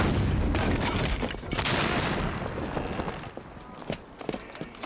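A ship's cannon loaded with hot shot fires. The blast is loud and broadband with a rumbling tail, surrounded by shipboard bustle and clatter, and no clear speech rises above it.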